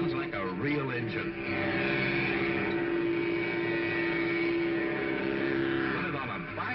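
Mattel toy hot rod engine mounted on a trike gives a steady, buzzing, engine-like drone with pitch wobbles at the start and end, fairly loud throughout, with a voice occasionally underneath.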